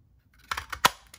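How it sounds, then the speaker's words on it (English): A handheld paper punch for a stamping craft snaps through paper in a few quick, crisp clicks, close and fairly quiet against a silent room. "I'm gonna go ahead and punch now."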